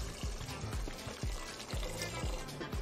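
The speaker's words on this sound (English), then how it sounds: "put some water" Boiled water poured into a pot of washed rice and coconut milk, a steady liquid pour with a few soft knocks, close and alone.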